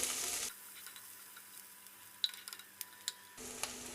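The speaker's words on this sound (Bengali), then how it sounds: "অতটাই পেঁয়াজটাকে আমরা ফ্রাই করব" Onions frying in oil for a Bengali-style chicken stew, a faint, soft sizzle with a few light ticks of stirring between louder bursts at the start and end.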